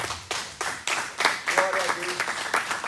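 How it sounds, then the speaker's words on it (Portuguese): A church congregation claps in rhythm during worship, a run of quick, bright, fairly close hand claps with voices mixed in. "Palmas, louve ao Senhor."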